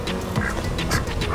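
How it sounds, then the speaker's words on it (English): Ducks quack repeatedly in a quick, nasal series beside an urban bike trail in South Miami, the calls close and fairly loud over a constant rushing background. "we have little duckies"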